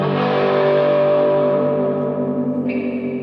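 A sustained, heavily reverberant guitar tone through a spring reverb tank with the mix turned fully up washes out over a few seconds, with a springy, echoing decay and a brief new note near the end.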